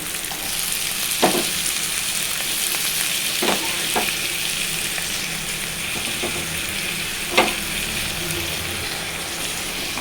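Tomato pieces frying in a pan on low gas for a chana dal curry, a steady loud sizzle throughout with a few sharp clicks of a stirring spoon against the pan.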